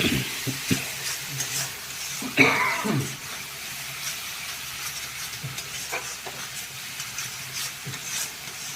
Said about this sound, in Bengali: মশলাটা এবার কষিয়ে নিই